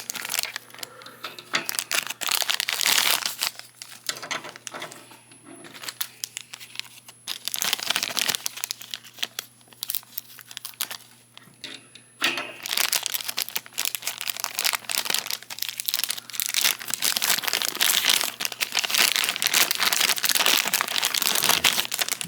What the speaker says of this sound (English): Still have to get the wings out of the bags here, and they're unfortunately sealed, so you have to cut them open.